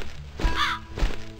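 A crow in The Cat Lady video game gives two loud, close caws about half a second apart, each one opening with a dull thump.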